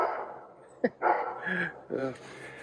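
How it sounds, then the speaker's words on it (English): A dog gives a few short barks and yips while chasing an eagle outdoors near garden beds, the sounds brief and mixed with a person talking. "there goes the dog after an eagle"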